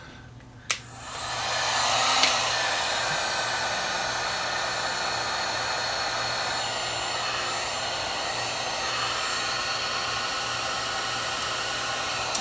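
A click, then a heat gun blows steadily as heat shrink tubing is shrunk during a Dual 1225 turntable repair, its airy roar rising quickly and holding a constant loud whoosh.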